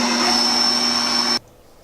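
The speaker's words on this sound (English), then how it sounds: "we're gonna go ahead and mix in this last ½ cup of powdered sugar" An electric mixer beats the last half cup of powdered sugar into vanilla buttercream frosting, a steady close whirring whine that cuts off abruptly partway through, leaving near silence.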